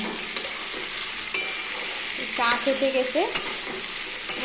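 Potatoes frying in a pan, with a steady sizzle and scraping stirs of a utensil recurring throughout, while a person speaks briefly in the background.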